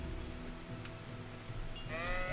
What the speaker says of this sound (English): So there's actually a sheep. Actually, a flock of sheep, all kind of milling about